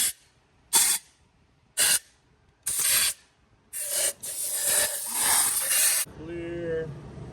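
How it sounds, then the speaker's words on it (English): Compressed air blows out the intake ports of an LS3 engine in several short, sharp hissing bursts, followed by a longer continuous blast and then a quieter tail with faint talk. "I'm gonna blow all of them out with some air"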